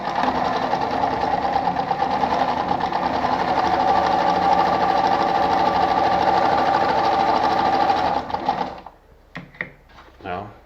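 A Pfaff model 230 sewing machine sewing a zigzag stitch hums close and steady with a rapid mechanical chatter, then stops, followed by a few brief clicks and handling knocks.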